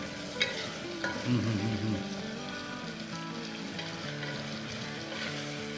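Ginger garlic paste fries in a pan for methi pulao, giving a steady close sizzle with occasional stirring scrapes and a faint tonal hum in the background.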